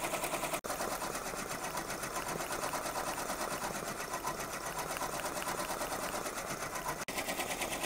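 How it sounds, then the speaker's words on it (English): A machine embroidery unit steadily stitches out a faux leather patch, its fast, even needle rhythm running loud and continuous throughout, with only two brief breaks in the hum. "We'll just watch this continue to stitch out."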